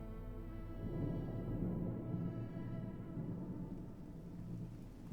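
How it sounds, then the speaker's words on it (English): Rain and rolling thunder in the video game Silent Hill 2, a low rumbling swell that builds and slowly fades over a soft continuous rain hiss, moderately quiet and with no voices. "It's raining."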